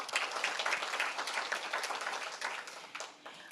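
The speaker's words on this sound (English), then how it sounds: "Please give them a round of applause." Audience applause at a Manatee Tiger Bay Club luncheon in Manatee County, a dense steady burst of many hands clapping that tapers slightly toward the end.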